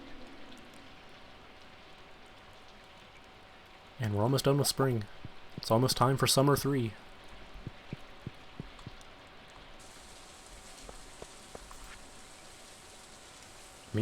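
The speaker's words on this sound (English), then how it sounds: "Oh, it's raining." Rain falling in the Stardew Valley farming game: a soft, steady hiss of rainfall that runs throughout, with someone talking briefly over it near the start.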